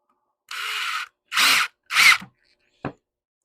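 Three short whirring bursts of a power drill driving a screw into a wood-turning blank, each under a second, followed by a single sharp click; close and loud against silence.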